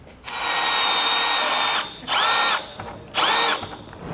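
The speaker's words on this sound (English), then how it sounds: "We can now come back with a smaller bit and drill out our pilot hole." A power drill with a small bit drills a pilot hole through a metal bracket, whirring in one long burst followed by two shorter bursts, with brief pauses between them; loud and close, no talking.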